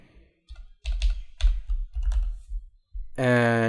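Quick keystrokes on a computer keyboard while coding a Pokemon Essentials script, a few short bursts of clicky taps close up, then a brief tonal beep at the end.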